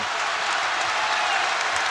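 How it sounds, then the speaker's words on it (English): A college basketball crowd at the Amp, Providence against Central Connecticut State, applauds and cheers in a dense, steady wash of clapping with no break. "Crowd energized here at the Amp."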